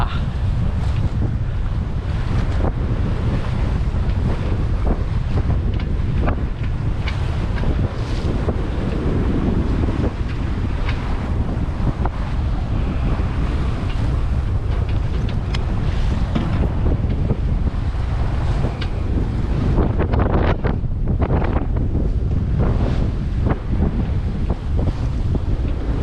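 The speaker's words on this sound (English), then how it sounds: "Seems that there is indeed much more wind than forecasted" Strong wind roars steadily across the microphone aboard an Albin Ballad sailboat, with waves and rushing water beneath, loud and continuous throughout, no voices.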